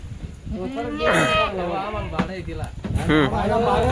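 Goats bleating at a livestock sale from a truck, with several loud, wavering bleats close by that overlap with people talking.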